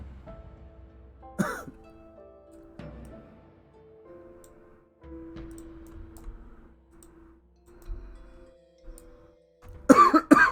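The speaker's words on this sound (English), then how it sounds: "Start talking and then I just start coughing." A few scattered coughs and throat clearings, spaced several seconds apart, with faint clicking and low background hum between them.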